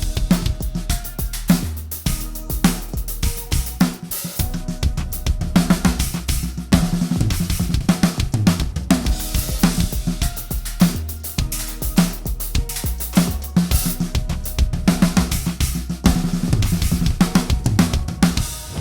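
Dense, energetic drum fills mix odd sticking patterns with busy tom and snare runs over a steady kick and cymbals. The playing is loud and continuous, close up, with no talking.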